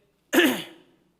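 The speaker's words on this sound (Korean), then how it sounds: "기침 한 번도 안 한다니까 바로 기침하네요." A single short cough or throat clear during a church revival sermon, close and fairly loud, alone against silence.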